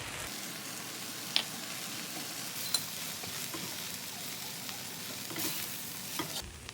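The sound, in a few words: vegetables and garlic sauteing in a pan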